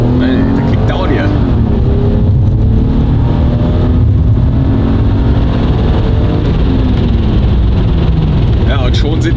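Turbocharged Toyota GS300 with about 300 hp, rear Michelin tyres and a limited-slip differential, engine roaring loud and steady under kickdown acceleration inside the cabin, with people talking over it.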